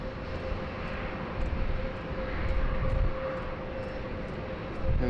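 An Air New Zealand Boeing 787 Dreamliner idles at a taxiway holding point at Sydney Airport, its engines giving a steady, loud droning whine with a constant tone and no speech.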